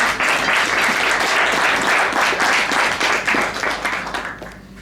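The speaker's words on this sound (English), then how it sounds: "Sir Grady, clap your hands for him." Conference audience at a tourism event applauding, a dense, loud, sustained wash of clapping from many hands that holds steady and then begins to fade at the end.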